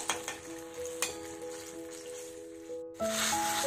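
Fritters fry in oil in a pan and are turned, a faint sizzle with a few clinks of a utensil and a steady tonal hum underneath.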